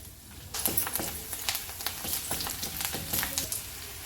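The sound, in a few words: garlic frying in hot oil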